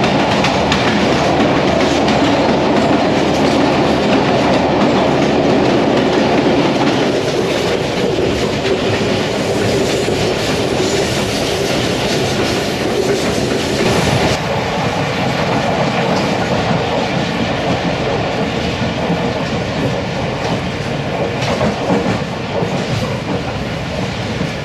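Passenger train of the summer vacation special, heard from inside an AC coach at around 65-70 km/h, a loud continuous roar of wheels on rails with rhythmic clickety-clack and rattling, steady for the whole stretch.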